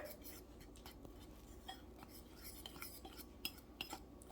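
Faint, quick clicking and scraping of a utensil against a bowl while dry waffle ingredients (flour, baking powder, salt) are stirred together, with a few sharper taps near the end.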